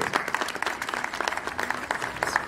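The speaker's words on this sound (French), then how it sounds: "Sous vos applaudissements, s'il vous plaît." Audience applause at a New Year's greetings ceremony for a political movement's members, a brief burst of scattered, fairly close clapping with uneven rhythm and no talk.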